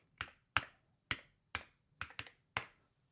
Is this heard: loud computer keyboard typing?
yes